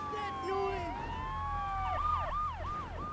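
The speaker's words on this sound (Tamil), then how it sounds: "சைரன் ஆஃப் பண்ணிக்கலாங்க" Police car siren in Grand Theft Auto 3, a wailing electronic siren sweeping up and down, then switching to fast yelping cycles, loud over game engine noise.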